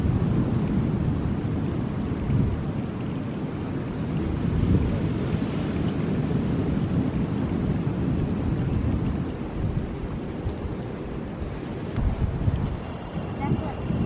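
Ocean waves surging against mighty rocks on a coastline, a loud continuous roar of surf mixed with heavy wind buffeting, rising and falling in waves throughout.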